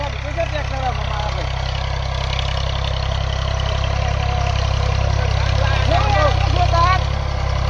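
A tractor engine idles with a steady, loud low-pitched throb that runs without a break, while several people talk over it.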